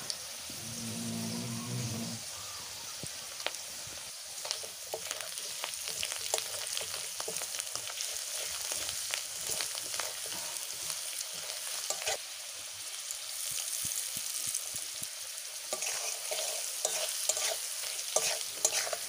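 Potatoes fry in a pan with cumin and ginger paste, giving a steady crackling sizzle broken by repeated scraping stirs, close and continuous for the whole stretch, with no voices.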